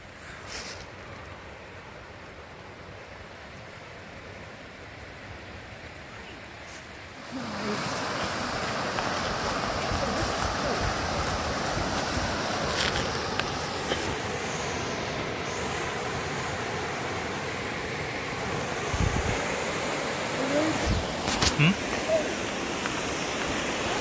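Floodwater of the River Wharfe at the Strid rushes past in a loud, steady roar that swells noticeably after a quieter opening, continuous and close, with talk faintly beneath it.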